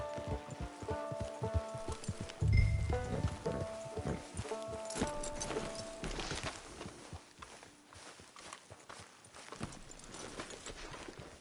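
Horse hooves clip-clopping at a walk in a Red Dead video game, steady rhythmic footfalls near and clear, with a brief louder thump early on and soft ambient game sounds underneath.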